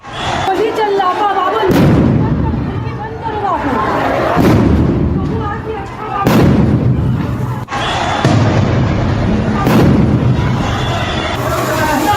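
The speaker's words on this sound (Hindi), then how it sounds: "अंदर धमाकों की आवाज सुनिए जरा" Bombs going off in a narrow residential street: several heavy booms spaced a couple of seconds apart, loud and echoing, with voices talking throughout.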